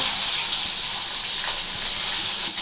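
Chopped onion hits hot oil for a Bengali lau chingri ghonto, giving a loud, dense, continuous sizzle with a faint crackle, close up and without voices.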